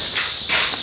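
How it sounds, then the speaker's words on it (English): Thousands of small frogs calling together in a chorus near a workshop, a dense, continuous high-pitched trill that swells in brief pulses. "And here is the source of the noise. Thousands of little frogs in here."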